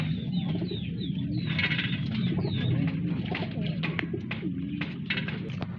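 Highflyer pigeons cooing and calling from a loft in Bareilly, steady throaty coos with scattered chirps and flutters, close and continuous, with a voice murmuring in the background.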